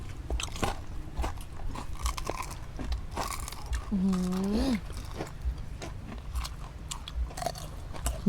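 Crispy deep-fried pork intestine with garlic is bitten and chewed close up, with loud repeated crunches and wet chewing over several seconds, plus a brief vocal murmur in the middle.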